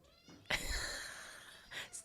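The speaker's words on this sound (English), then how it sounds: "See what I mean? She's the best cat." A pet cat meowing when called for fish, one long drawn-out meow followed by a shorter second call, close and clear, with no talking.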